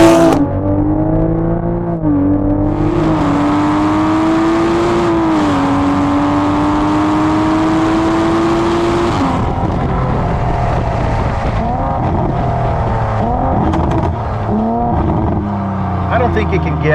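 A modified 800hp Toyota Supra with a bolt-on turbo upgrade and tune accelerates hard on a straightaway, its engine note climbing and rising steadily in pitch, loud and close, with a brief shift dip before the howl tapers.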